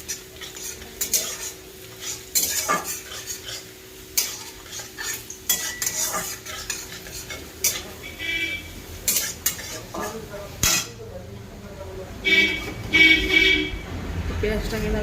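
Onions frying in a pan for an egg korma and stirred with a utensil, giving scraping, clinking metal strokes and light sizzle, close and intermittent, with a person talking over much of it and occasional horn-like toots in the background.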